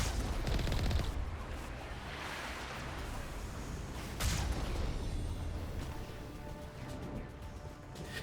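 Mass Effect cannon fire and gunfire form a dense, distant, rumbling barrage of overlapping shots and blasts, with a sharper boom partway through, and no talking.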